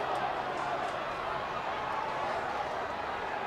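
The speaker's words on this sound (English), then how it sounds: "So the Magpies, the crowd starting to get behind them a bit." A rugby league crowd at Campbelltown during a 1999 Western Suburbs Magpies versus Balmain Tigers match makes a steady, broad roar that holds level throughout without sharp peaks.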